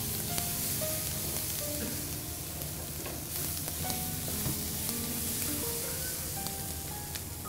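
Multicoloured bell peppers, green, yellow and red, stir-fried in a pan, a continuous close sizzle with steady scraping and stirring of the spatula throughout.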